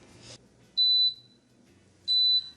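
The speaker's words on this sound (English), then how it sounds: "that is the timer telling me that the milk has actually heated up and then cooled down to the correct incubation temperature" An Instant Pot timer sounds while plant-based milk is being heated and cooled for yogurt: two clean, high electronic beeps about a second apart, close and clear, with a soft rustle just before the first.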